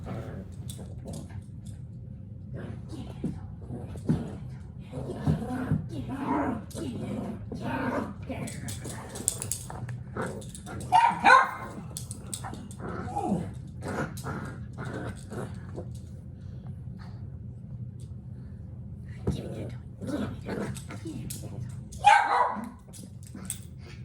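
A puppy playing tug with a toy yips, barks and whimpers in short excited bursts, with a low continuous rumble underneath and a few sharper barks standing out, under and between stretches of talking.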